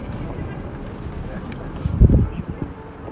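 Wind blowing outdoors at the Ark fortress in Bukhara, buffeting the microphone with a low, uneven rumble that swells into a stronger gust near the end.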